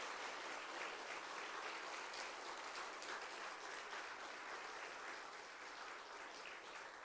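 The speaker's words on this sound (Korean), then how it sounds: "그런 마음으로 큰 박수 함께 드리겠습니다." An audience at a church charity mission concert applauds steadily, a dense, even wash of clapping held at a distance for several seconds with no voices over it.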